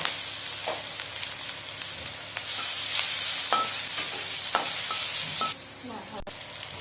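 Onions hit hot mustard oil with five-spice seeds for a bottle gourd and fish curry, crackling into a bright, steady sizzle with scraping stirs, loud and close throughout.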